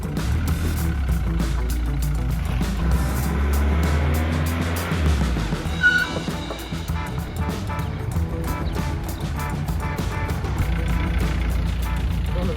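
Car driven on a short test loop to check the brakes, its engine humming and droning steadily with shifting pitch, while someone talks over the running engine.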